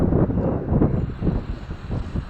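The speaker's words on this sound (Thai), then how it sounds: "เช้าอากาศดีนะครับ ลม พัดเย็น ดี นะครับ" Morning wind at Bang Saen beach, gusting buffets of air rumbling against the microphone in uneven waves, loud and close with no talk.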